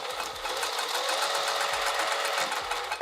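A sewing machine restitches a seam on a vinyl sling bag, running in a fast, even mechanical whir with a low thumping needle rhythm and brief stops and starts, close and steady.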